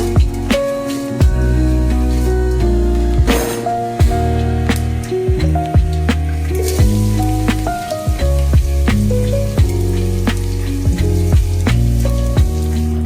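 Loud, steady crackling and sizzling of spices frying in hot oil, with sharp pops scattered throughout and no talking.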